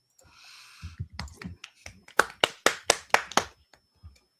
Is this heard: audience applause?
yes